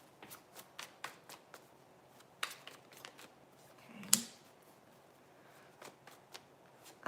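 Tarot cards are shuffled by hand in a quiet room, producing a series of soft, crisp riffles and taps spaced irregularly, with one louder snap midway.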